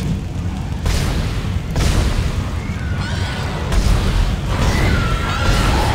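Heavy weapon fire in the sci-fi horror video game Dead Space, loud booming blasts repeating about once a second over a dense rumbling ambience, with no talk.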